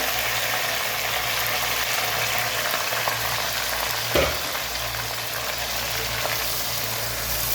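Chicken biryani mixture frying in very hot oil, a continuous crackling sizzle, close and steady, with a brief stir or clatter midway through.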